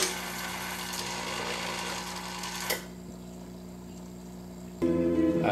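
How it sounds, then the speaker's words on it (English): Wurlitzer 2700 jukebox mechanism clamping the next record: a steady mechanical whir runs for a few seconds, ends in a short clack, falls to a quieter hum, then a louder motorized whir starts up near the end. "Clamping the next record."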